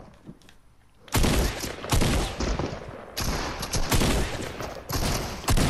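Gunfire in the Fortnite battle royale, repeated loud blasts that come in bursts after a quiet opening, with dense overlapping shots through the rest of the stretch.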